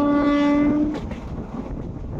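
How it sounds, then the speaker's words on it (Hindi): A train winding through mountains on its way to Kalka station sounds a long, loud, steady horn that cuts off after about a second, followed by rumbling carriages and faint clatter close by. "ये देखो ये हमारी ट्रेन है जो टर्न ले रही है।"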